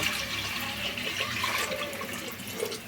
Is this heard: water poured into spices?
yes